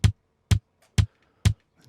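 Four drum hits recorded through in and out mics and treated with tape machine, preamp and EQ plugins, spaced evenly about half a second apart, punchy with a deep low thump, closing with a faint softer hit.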